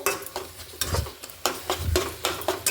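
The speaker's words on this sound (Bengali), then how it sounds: "আর হাফ চামচ দিয়ে আমি এভাবে এটাকে নাড়াচাড়া করতে থাকবো" A spoon stirring frying masala in a pan for a Bengali-style meat curry, a close series of rhythmic scraping strokes about twice a second over a low sizzle, with no talking.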